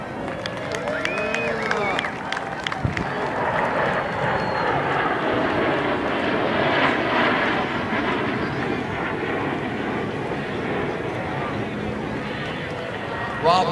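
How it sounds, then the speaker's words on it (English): A roaring jet passage builds and sustains as a formation of Northrop T-38 Talon jets flies over at the California Capital Airshow, with a crowd murmuring and scattered voices beneath the engine noise. "here come the Beal T-38 Talon aircraft built by Northrop"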